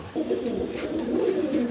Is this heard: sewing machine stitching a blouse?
no